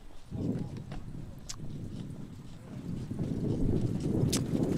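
Harness racing horses walk in the post parade at a Franklin County track, their hooves clip-clopping at a moderate distance under an announcer's voice, with some wind noise.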